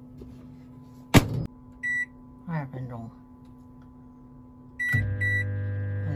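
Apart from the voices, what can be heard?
microwave oven running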